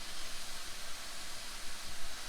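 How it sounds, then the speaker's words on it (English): Mushrooms sizzle in a hot pan while browning in red wine braised mushrooms, a steady broadband hiss with crackling texture throughout, fairly quiet and continuous with no talk. "let it start to sizzle and really crisp up those little mushroom edges"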